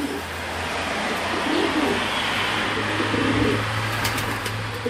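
Pigeons on a balcony give soft, low repeated coos in a few bouts over a steady background hum of distant traffic, with no talking.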